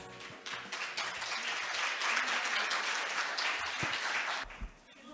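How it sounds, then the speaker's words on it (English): Conference audience applause welcoming a speaker at a carbon neutrality opening ceremony, a full room of clapping building quickly and holding steady before tapering off near the end. "Please welcome her with a big round of applause."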